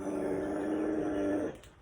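A voice imitates a dog's low, rumbling growl, held steadily for well over a second before it cuts off, close and fairly loud.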